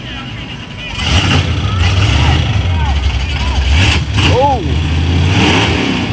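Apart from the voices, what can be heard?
drag racing muscle car engine revving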